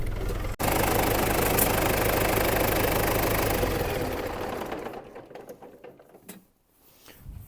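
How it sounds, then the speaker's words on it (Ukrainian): An MTZ tractor's diesel engine idles while warming up, with a steady, rapid knocking chug, close and fairly loud, then fades away into quieter background noise. "Хай мотор трохи прогріється"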